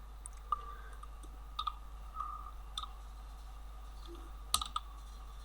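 Text is typed on a computer keyboard in short, scattered bursts of soft clicks and taps against a faint steady hum in a quiet room.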